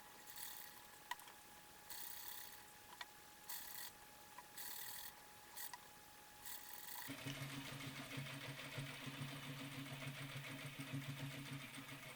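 A sewing machine stitches the hood to the mantle of a medieval monk costume. Short bursts of whirring come first, then a longer continuous run of mechanical stitching, heard close up with no talking.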